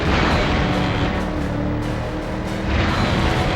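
Explosions in the PS2 stunt-driving game Stuntman Ignition make a loud, dense, continuous roaring rumble with brief dips in intensity, heard without any talk.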